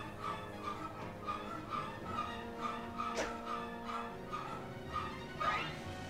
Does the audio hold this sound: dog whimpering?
yes